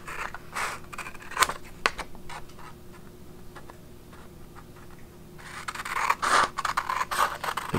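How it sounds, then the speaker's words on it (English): Scissors snip through paper while emoji pieces are cut out, with sharp, irregular clicks and crisp cuts, a quieter scraping stretch in the middle, then a busier run of snips near the end, close by and with no talking. "you're gonna cut out every one of these"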